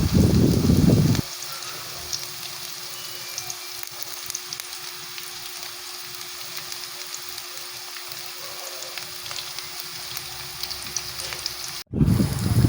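Onion frying in a hot pan for fried rice, a steady close sizzle that runs continuously with no talk, after a short louder burst at the start.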